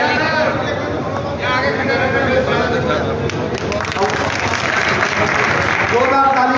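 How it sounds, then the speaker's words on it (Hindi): A crowd claps steadily and loudly to welcome new BJP members at an election office inauguration in Gangapur City, the dense applause running on throughout with people talking and murmuring underneath. "मीनाक्षी जी का आज जोरदार अभिनंदन करिए ताली बजाकर।"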